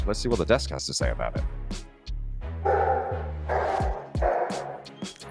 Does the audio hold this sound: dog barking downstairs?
yes